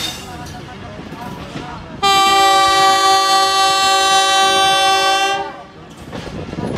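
Pakistan Express train horn blares loudly at Ramgarh junction, a long sustained multi-tone blast lasting about three seconds, with station bustle and faint talk before and after.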